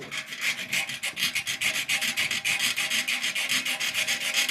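A dirty igniter electrode from a Ferroli combi boiler burner is sanded by hand, giving rapid, close, rhythmic rasping strokes that repeat steadily throughout with no talking.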